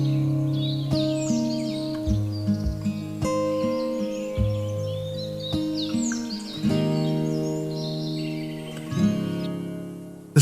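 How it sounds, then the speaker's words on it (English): Birds call and chirp in scattered bursts over a sustained tonal background, fairly faint and distant, in the forest at Kakum, Ghana. "The sounds of the forest rise from every direction, from birds calling to their flocks"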